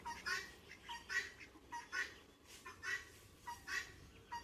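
A guinea fowl calls over and over in harsh, rhythmic bursts, roughly two per second, at moderate distance with nothing else in the background.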